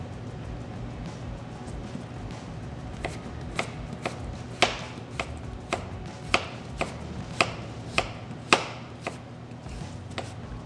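A knife slicing vegetables on a cutting board during a garden meal cooking demo, a run of crisp, evenly spaced chops that quicken and grow louder over a low steady background hum.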